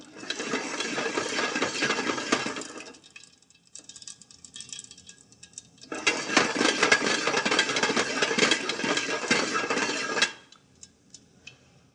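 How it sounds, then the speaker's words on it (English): Spices popping in hot oil in a pan while Indian food is cooked, with a dense, crackling sizzle. Two long bursts of spattering are separated by a quieter stretch, and the sound tapers off at the end. "Now the popping is carrying on."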